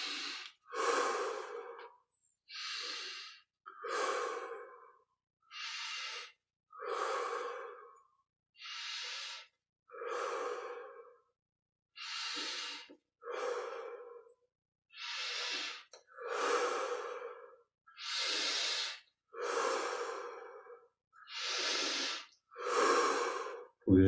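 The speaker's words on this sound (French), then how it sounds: "20 respirations, 25 profondes." Slow, deep yoga breaths during a Kriya Yoga exercise, about fifteen evenly spaced inhales and exhales heard up close, each a long airy rush separated by brief silences, growing slightly fuller toward the end.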